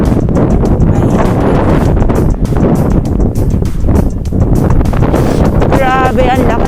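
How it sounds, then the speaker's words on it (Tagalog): Heavy wind on a mountainside buffets the microphone in a loud, constant roar, with brief dips, while a person talks faintly underneath. "ang lakas ng hangin"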